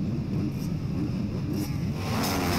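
Motocross bikes roar together in a sustained, loud engine drone at the gate drop of a 24MX Tour race in Sommières, a dense blend of revving motors with no voices.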